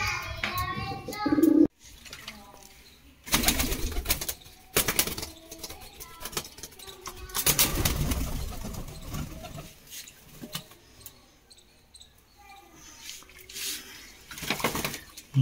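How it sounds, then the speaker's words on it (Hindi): Pigeons are let go nearby with bursts of wing flapping and flutter, soft cooing early on and scattered rustling and handling noises between the flights. "तो गाइस हमने कबूतर छोड़ दिए यहाँ पर"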